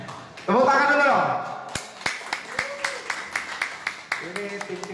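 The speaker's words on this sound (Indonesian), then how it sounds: "Tepuk tangan dulu dong" After a loud spoken exclamation, a small audience at a team gathering in Bogor begins rhythmic clapping, steady, moderately close hand claps continuing as a voice talks briefly over them.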